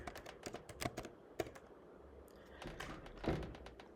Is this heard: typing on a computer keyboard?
yes